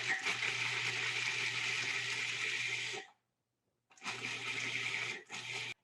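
A kitchen blender pulsing with a loud whirring roar in bursts: one long run of about three seconds, a brief pause, then two shorter pulses, with no talking.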